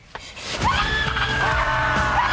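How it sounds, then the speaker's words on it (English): A woman screams at a crocodile in a tub, a loud shrill wavering cry that rises and holds over a busy, dense background for about two seconds. "A woman screams at a crocodile in a tub."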